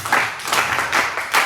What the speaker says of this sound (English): you have to clap like the school clap